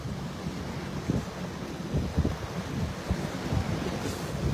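Rough water driven by a northwest wind slaps against a seawall on Anna Maria Island, a steady near rumble of chop and surging splashes mixed with wind buffeting the microphone.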